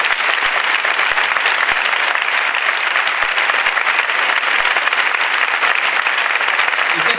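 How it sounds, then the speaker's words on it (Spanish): Loud, sustained applause from a theatre audience at a humour show fills the whole stretch, dense and even, with a few sharper claps standing out and no talking over it. "me parece que se merece un aplauso grandísimo"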